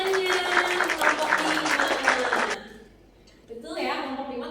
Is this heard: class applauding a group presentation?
yes